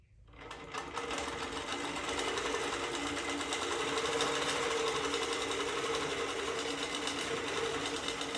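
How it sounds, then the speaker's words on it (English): A sewing machine runs a straight basting stitch across a quilt top, starting up after a brief quiet moment and then holding a steady, close, rapid mechanical whir and needle clatter throughout. "And now I am going to stitch myself a straight line, and"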